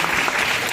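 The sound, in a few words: applause for teachers at school cultural program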